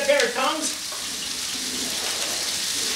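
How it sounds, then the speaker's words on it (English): Lamb chops sizzling in a frying pan, a loud steady hiss and crackle of frying that runs throughout, with brief talk at the start. "Let's hear that sizzle, look at that."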